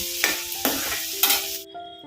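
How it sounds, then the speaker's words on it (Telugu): Five or six onions fry in a hot pan, sizzling steadily while a utensil scrapes and stirs them in three distinct strokes, close and clear with no voices. "ఒక ఐదారు ఉల్లిపాయలు ఎక్కువగా తీసుకొని చిన్న దీన్ని మంచి రంగు వచ్చేంత వరకు దగ్గరుండి ఫ్రై చేస్తే అన్నీ ఈవెన్గా ఫ్రై అవుతాయి"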